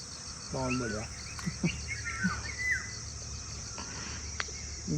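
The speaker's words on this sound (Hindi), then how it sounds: "पीछे 110 तरह के पक्षियों की आवाज़ें आ रही हैं" A morning safari in Jawai brings a chorus of many bird species, with clear chirps and whistled calls over a constant high cricket drone. A voice talks briefly near the start.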